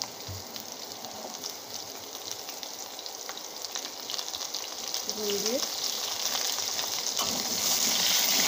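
Potato pieces go into a little hot oil where cumin seeds have already been fried, during home cooking for a fish curry; a steady, even sizzle that grows slightly louder toward the end, with no talking.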